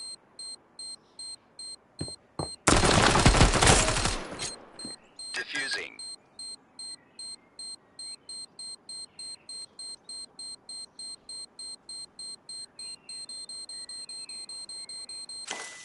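Repeated short electronic beeps tick steadily through a Standoff 2 match as a bomb is defused, with a loud burst of noise and another brief blast early on, and the beeping runs on alone to the end.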